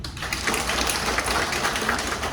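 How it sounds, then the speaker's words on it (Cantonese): An audience claps at a company gathering, with dense, steady applause throughout and no pauses. "大家要俾啲掌聲佢先"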